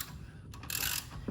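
A wrench loosens a lug nut on a car wheel during a spare tire change, giving a faint, quick ratcheting click followed by a short metallic grinding burst.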